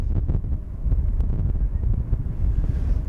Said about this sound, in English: because wind is picking up a little bit here.